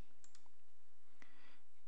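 Computer mouse clicks on a Start button while setting up an Active Directory backup: two quick faint clicks close together, then another click a second later, quiet and isolated with no talk.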